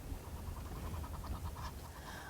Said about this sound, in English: There's just so many Egyptian geese.